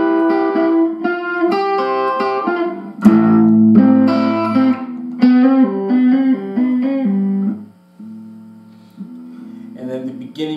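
Distorted electric guitar plays a melodic lead line of sustained bent notes, loud and upfront, easing to a softer held tone near the end.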